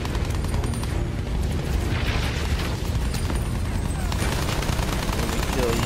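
Sustained machine gun fire in Battlefield 1, dense continuous bursts and booming impacts roaring without pause through the whole stretch, with a voice talking over it.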